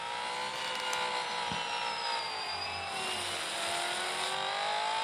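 A Porsche Taycan electric car driving in the racing game Real Racing 3 gives a loud, steady high-pitched electric whine with slowly gliding pitch, continuous and alone, with a brief low thump near the middle.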